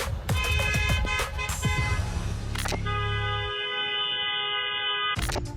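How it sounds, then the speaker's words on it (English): A car horn blares in a long, steady blast over a low idling engine rumble, preceded by a few sharp knocks and clatter. "drive up and down the driveway and honk at us"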